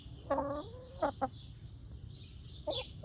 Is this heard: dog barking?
no